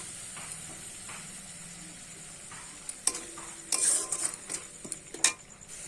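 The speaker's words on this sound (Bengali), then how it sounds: "নারকেলের দুধটা দিয়ে আমি কিছুক্ষণ ধরে মশলাটা কষিয়ে নেব।" Spice paste cooking down with coconut milk in a pan for a prawn malai curry, a low steady sizzle broken by a few sharp spoon scrapes and clinks against the pan in the second half; no talking.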